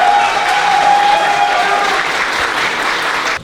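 An audience applauds at a kickboxing versus judo fight event, a dense, steady burst of clapping from a large crowd that continues evenly before tapering off at the very end.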